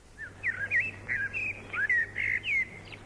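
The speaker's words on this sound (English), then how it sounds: "Look, Rochelle, there's a blackbird looking for worms" A blackbird sings in a garden, a run of clear, fluted whistled phrases repeating steadily for a few seconds, close and distinct over a faint low hum with no talking.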